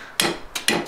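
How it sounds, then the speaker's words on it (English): Three sharp metallic hammer strikes driving a pin out of an automatic transmission valve body, close up, spaced unevenly with short ringing decay between them. "this one I had to hammer out"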